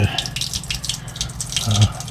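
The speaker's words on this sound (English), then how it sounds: "use the sink run some water into the gray water tank" Water runs from an RV sink tap down into the gray water tank, a steady splashing gush heard close by throughout.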